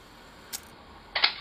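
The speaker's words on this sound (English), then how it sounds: "Press the shutter, timer will go round, then when it gets to the top, opens the shutter" A Nikkormat FTn 35mm SLR camera's self-timer runs out and trips the shutter: a faint short click, a quiet pause, then a sharper louder mechanical clack of the shutter firing, close up with no talk.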